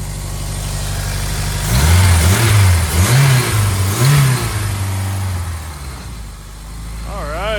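A car engine revs hard in a few rising bursts before settling back toward idle, the turbo and downpipe sounding quiet after repair; close and loud.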